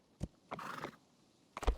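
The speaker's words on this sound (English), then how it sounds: "Super fast horse." A horse in the Rising World video game neighs, with short bursts of hoofbeats and whinnying; a brief snort or hoof thud comes first, then a longer whinny and a final strong burst, all close and fairly loud.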